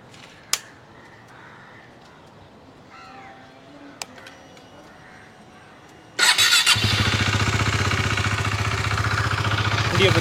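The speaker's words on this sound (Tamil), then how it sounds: "இப்போ பார்த்தீங்கன்னா வண்டியை வந்து ஸ்டார்ட் பண்ணி ரேடியேட்டர் சுற்றுற ஃபேனோட சவுண்டை வந்து பார்த்துக்கலாம்" Faint sounds and a crow cawing in the background give way midway to a KTM 390 Duke motorcycle engine starting loudly and then running at a steady idle, with the radiator fan whirring.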